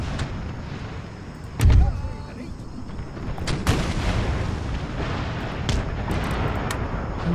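Cannon and musket gunfire in the Empire Total War strategy game, with a heavy boom near the start and further scattered shots over a continuous battle din.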